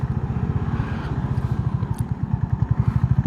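A 2025 Honda CB350RS engine thumps along in fifth gear at low road speed, a steady, close, rhythmic low pulsing with a slight mechanical clatter and no talk over it.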